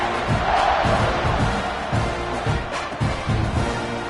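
Football stadium crowd at a KML versus Arizona State game buzzing and cheering after a score, a loud continuous roar with rising swells of shouts, filling the whole space.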